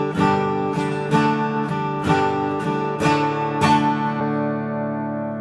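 Electric guitar strums a riff: six loud, ringing chord hits in a steady rhythm, the last one left to sustain and fade, with no talking.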